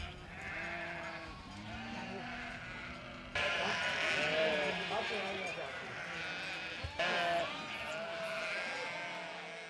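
A flock of sheep bleats repeatedly in overlapping calls at a farm fence in Hasdate village, Romania, loud and close, with a person talking over the flock.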